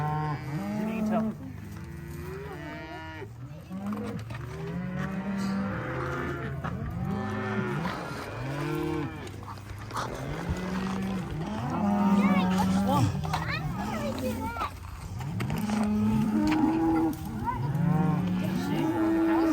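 Several cows moo repeatedly in a farm field, long drawn-out calls overlapping near and far, with occasional people talking quietly in between.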